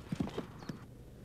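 Horse hooves trotting at an equestrian military eventing competition: a few quick, close clip-clop strikes in an uneven rhythm over the first second, then quiet.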